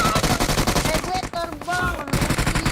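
Video game gunfire rattles in sustained rapid automatic bursts, loud and continuous with brief gaps, while other game sounds play beneath it.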